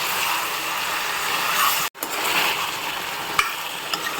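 Duck meat fries dry in a pan with garam masala, red chili and coriander, sizzling loudly and steadily while a utensil stirs and scrapes it, broken by a brief silent gap midway.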